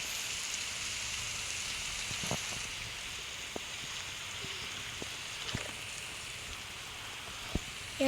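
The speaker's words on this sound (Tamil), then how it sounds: "எப்போ மழை நிற்கும்னே தெரியாது" Steady rain in the video game 99 Nights in the Forest hisses continuously, with occasional sharper drips and taps standing out against the even wash.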